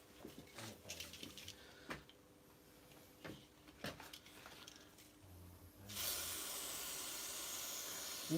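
Faint ticking and clicks of work on an Arrma RC car differential with damaged gears, then an aerosol spray can, likely brake cleaner, gives a sudden loud steady hiss for the last few seconds.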